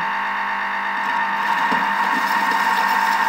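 Thermomix-style mixer with butterfly whisk at speed 3 and 50 degrees churns granulated sugar for vanilla ice cream, a steady close mechanical whir with gritty crackling scrapes building slightly in the second half, no talk.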